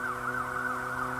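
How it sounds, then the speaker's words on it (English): A police siren wails steadily at night, its smooth rising and falling tone heard clearly and alone, with an echoing, somewhat distant quality. "Police sirens echo throughout the night."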